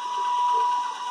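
Chopper-fed DC series motor running on a lab bench, a steady high electrical whine with a faint mechanical rattle beneath it, close and unbroken.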